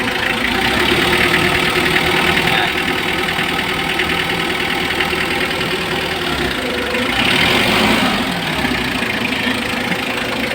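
A Mitsubishi L300 van engine idles steadily, a continuous close rumble with a faint knocking edge that holds level throughout with no talking.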